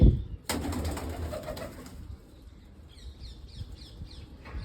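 Wings flap in a loud burst, followed by several soft, repeated pigeon coos close by over a low rustling background, as pigeons are caught.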